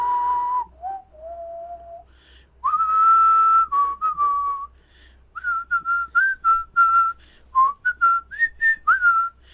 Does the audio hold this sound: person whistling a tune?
yes